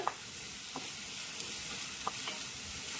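Sliced onions cook softly in a pan for Andhra-style spicy prawn curry, giving a quiet, steady sizzle with a few faint scrapes of stirring.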